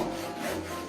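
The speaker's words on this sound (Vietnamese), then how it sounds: "Cưa gỗ." A saw drags across wood in one short, close, rough rasping stroke, loud and harsh, with no talking.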